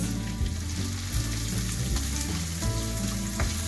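Finely chopped onions fry in hot oil, giving a steady, fairly loud sizzle that runs unbroken for the whole stretch, with faint stirring knocks now and then and no voices.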